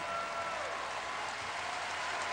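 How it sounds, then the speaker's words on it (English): A large arena crowd at a 2006 LSU versus Mississippi State basketball game applauds and cheers the seniors, a dense, steady roar of clapping that holds at full level without a break. "You see all the faithful standing up and cheering."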